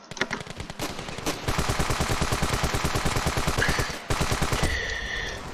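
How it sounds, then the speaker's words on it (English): Rapid automatic gunfire in the Ravenfield video game, loud and close, sustained bursts of dense rattling shots with a few single cracks at the start. "Why am I shooting you?"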